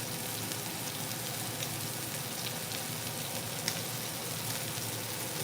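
Rouse tomato sauce sizzles in a buttered cast iron pan, a steady close crackling fry with no talking.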